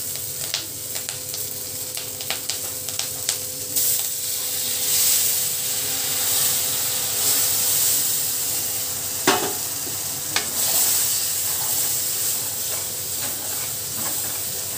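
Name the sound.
frying in hot oil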